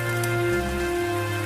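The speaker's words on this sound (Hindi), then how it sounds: "बारिश और तेज हो गई।" Heavy rain falls as a steady, dense hiss with a low, constant hum underneath, with no voices.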